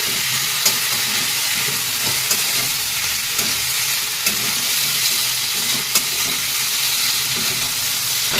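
Ground ginger, cumin and chilli paste are stirred together in a hot frying pan for a fish curry, giving a continuous loud sizzle broken by regular light scrapes and clicks of the spoon against the pan.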